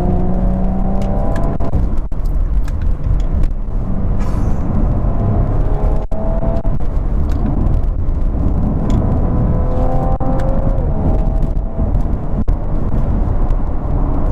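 A BTCC champion's Audi RS4 Avant engine roars continuously at high volume, with rising and falling harmonic tones as it accelerates and shifts, close and loud throughout.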